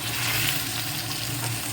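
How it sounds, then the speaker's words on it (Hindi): Chicken fries lightly in a pan, a steady, close, loud sizzle that holds unchanged throughout, with no other sounds over it. "अब हम चिकन को हल्का सा फ्राई करेंगे जब तक कि ये इसका कलर वाइट ना हो जाए।"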